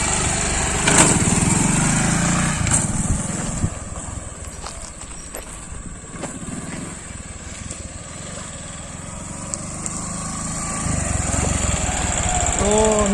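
A motorcycle with a damaged clutch runs steadily while being shifted through first and second gear into neutral without the clutch, giving a constant close engine drone broken by occasional mechanical clicks.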